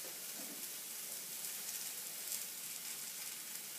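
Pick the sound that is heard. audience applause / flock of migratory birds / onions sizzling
onions sizzling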